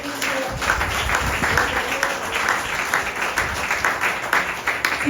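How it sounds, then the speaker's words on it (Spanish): A Spanish-speaking church congregation bursts into loud applause during a Sunday service, many hands clapping in a dense, continuous roar that swells and holds throughout. "Denle un fuerte aplauso al Señor."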